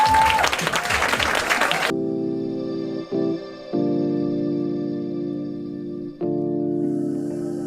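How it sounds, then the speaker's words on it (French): A comedy club audience breaks into loud applause for Eric, clapping at first before the sound drops to a steady, sustained hum with brief dips. "je crois qu'on peut faire encore un tonnerre d'applaudissements pour Eric"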